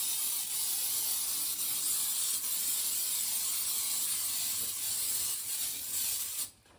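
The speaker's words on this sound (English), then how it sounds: "got me some Baker's Joy. Spray this pan down." Baker's Joy baking spray hisses steadily onto a cake pan for a pound cake, one continuous close spray lasting several seconds before cutting off abruptly near the end.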